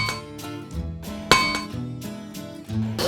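Heated metal hammered at a forge while a coat hook is made: a run of ringing metallic clanks and clinks, one sharp strike standing out, with no talking.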